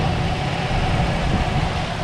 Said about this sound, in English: I'll rev the engine up, see what you guys think.